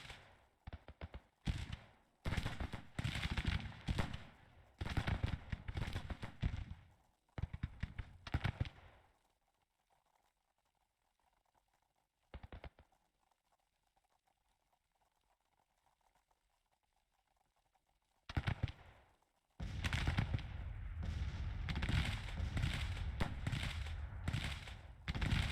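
Civil War-era guns fire in the Grand Tactician 1864 Confederate campaign, defending the capital, with dense crackling bursts of volleys in clusters, a long quiet gap with a lone shot, then sustained heavy firing again, no talk.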